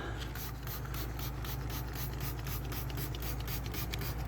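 Homemade acid wheel cleaner is coated onto a car wheel rim, giving a steady, close rubbing and spraying texture with faint rhythmic pulses throughout.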